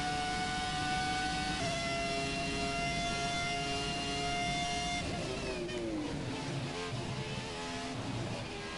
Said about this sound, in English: Now listen to that engine. I'm going to be quite quiet now for a bit, so you can hear the engine.